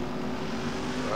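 A fixed-wing airplane passes overhead at a car meet in Texas, heard as a steady, distant propeller drone with a constant hum; no speech.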